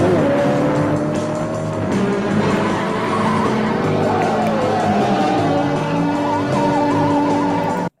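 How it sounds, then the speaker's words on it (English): A car engine revs loudly and continuously, with a strained, tire-squealing race-car quality that shifts in pitch over about eight seconds. "Does anyone know what that car is?"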